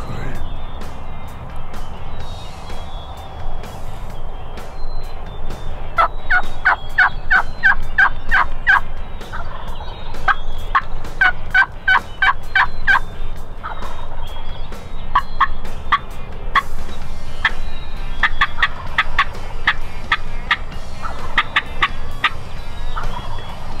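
A wild turkey gobbles from a tree during an Ontario spring hunt, its loud rattling calls repeating in several clustered bursts over steady outdoor background noise.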